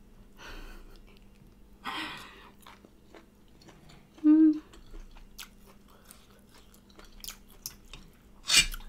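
Close, intermittent chewing and crunching of spicy chicken gizzards stir-fried with basil, with soft bites, smacks and breaths between mouthfuls and a brief vocal sound mid-meal.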